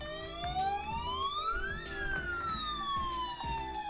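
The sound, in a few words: police sirens in video game The Legend of Heroes: Zero no Kiseki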